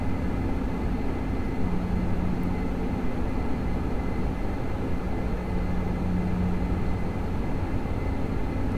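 A steady, droning engine rumble comes from an airliner on final approach in a flight simulator, with a low hum and faint tonal whines that hold constant throughout.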